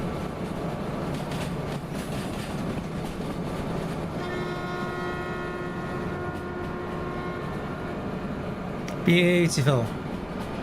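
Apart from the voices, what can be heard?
train running, from video game Derail Valley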